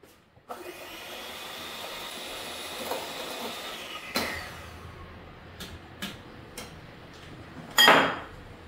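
Egg coffee being stirred and mixed in a cup, with soft scraping and several sharp clinks of a utensil against the glass, ending in one louder clatter, and no talking.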